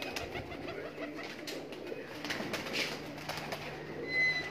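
A large flock of breeder's Kamangar pigeons coos softly, the low rolling calls fairly faint over steady background hum, with a brief louder rise near the end.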